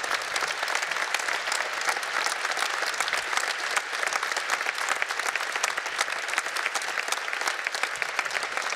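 A large audience at a women's forum event applauds steadily and loudly throughout, a dense unbroken wash of clapping with no speech over it.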